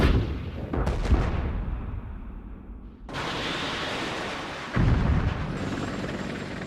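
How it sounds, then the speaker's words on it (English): A missile fired down range during the 1991 Gulf War makes a loud blast, then a sustained roaring rush that swells again near the end, close and heavy with no speech. "Arm this missile and I'll shoot it down range."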